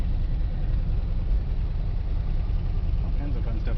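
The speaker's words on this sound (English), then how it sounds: "Alright, we're sitting and idling." A 1977 Dodge van's engine idles steadily at close range, a continuous low rumble with no change in pace across the few seconds.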